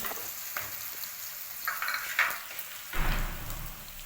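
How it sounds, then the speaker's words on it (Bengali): Green beans dropped into a pan for chicken momo filling, a quiet steady sizzle with a few light scrapes and a louder burst of frying near the end. "এবার আমি বিনসগুলো দিয়ে দিচ্ছি"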